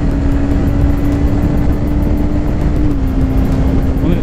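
A Suzuki GSX 250 R twin-cylinder motorcycle engine with its stock exhaust, a steady loud drone held at constant revs, heard from the rider's seat with wind rush mixed in.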